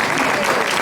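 Audience at an alumni scholarship luncheon giving a dense, steady round of applause for the MC, brief and fairly loud with no talk over it.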